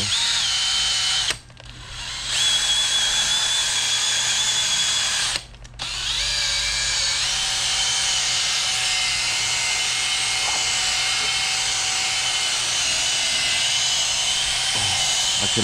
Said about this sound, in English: I like using the drill because it's a lot easier.